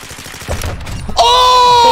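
Gunfire in a first-person shooter game, likely a sniper rifle: a sharp report near 0.5 s, another shot around 1.2 s, then a sustained bright ringing tone, with some in-game noise beforehand.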